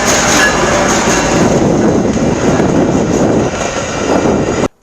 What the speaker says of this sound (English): maybe we can get a good shot of the train coming down the tracks